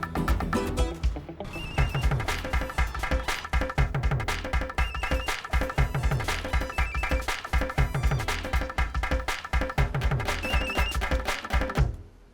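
A telephone rings loudly in a rapid, repeating electronic pattern, a steady run of bursts lasting about eleven seconds with no voices over it.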